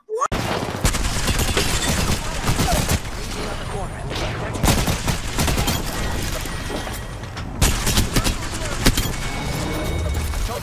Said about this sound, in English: That's bombardment.